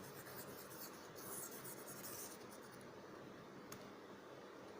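A pen scratching steadily across paper while a phase diagram of water is redrawn by hand, faint and continuous over a low background hiss, with no talk.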